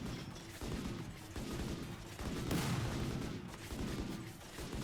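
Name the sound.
gunfire from colonists shooting in the video game RimWorld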